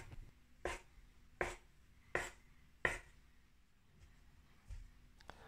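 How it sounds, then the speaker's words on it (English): A knife chops sausages into small pieces on a board: four crisp, evenly spaced cuts close by, then a softer fifth chop after a pause. "take your knife and cut the sausages into small pieces like this"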